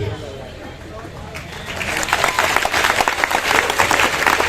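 Audience applause at an education and motivation talk, swelling in midway under a speaking voice and continuing as dense clapping to the end.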